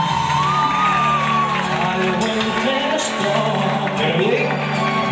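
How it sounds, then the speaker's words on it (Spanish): At a quinceañera party, guests cheer, whoop and shout for the birthday girl and her father, a loud continuous crowd roar with festive sounds mixed in, while clapping is not distinct. "El aplauso para Ariadne con su papá"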